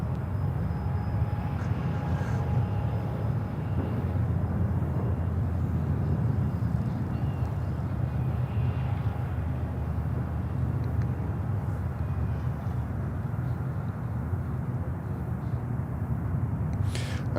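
An Embraer 135 regional jet at Charlotte airport gives a steady, broad engine roar that holds at an even loudness throughout, with a faint high whine above the low rumble.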